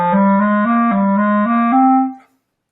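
A single sustained instrument plays a short run of stepwise notes in a major key, climbing and stepping back in a scale pattern, clear and close, then fades out.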